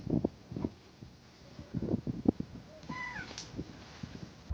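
A house cat meows near a baby on a wooden floor, giving one clear rising-and-falling meow in the middle amid soft rustling and scattered thumps, close and fairly quiet.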